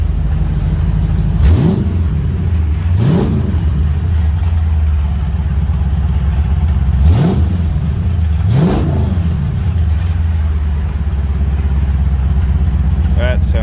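A 1956 Ford F-100 engine settles into a steady, rumbling idle, broken by four sharp throttle blips in two close pairs, each revving up and quickly falling back.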